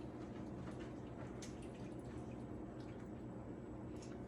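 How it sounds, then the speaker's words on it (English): Sticky glaze for smoked pork belly burnt ends is poured over the meat in a pan, a steady soft liquid trickle and drip that runs evenly throughout with no talking. "We're going to go ahead and put about half of our glaze on there. And just kind of pour it over them."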